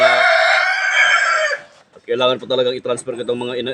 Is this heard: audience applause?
no